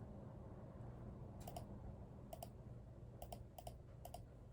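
Fingers typing on a computer keyboard: a few quick bursts of crisp key clicks with short pauses between them, quiet and close over a low background hum.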